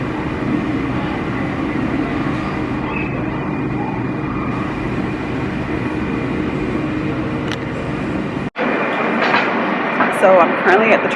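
A train rumbles steadily through a station in the south of France, a continuous low roar with a faint whine; after a sudden cut, clattering and a voice come in.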